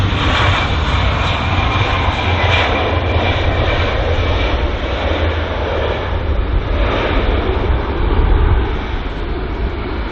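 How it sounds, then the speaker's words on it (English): A British Airways Airbus A320 arrives on runway 27 right at London Heathrow, its jet engines a loud, continuous roar that swells slightly toward the end, with no voices. "So our next arrival here at London Heathrow 27 right is the Airbus A320 operated by British Airways."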